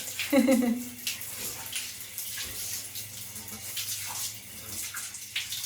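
Water runs from a tap into a bathing tub or bucket with a steady, continuous splashing and gushing. A faint voice is briefly heard at the start.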